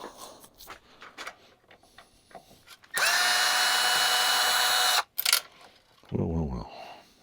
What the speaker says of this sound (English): I need a Phillips screwdriver.